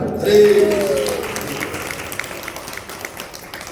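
An audience at a religious question-and-answer session claps after a voice, the clapping scattered and fairly faint as it trails off.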